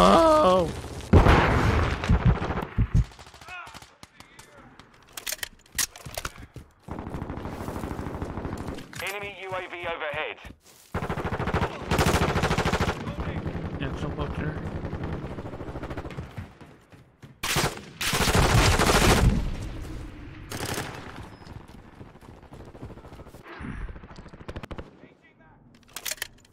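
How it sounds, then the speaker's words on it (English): Gunfire in the Modern Warfare 2 video game on PS5 comes in loud bursts of rapid automatic shots with a few heavier booms, spread across the whole stretch with short pauses between bursts. "Everyone's shooting at me."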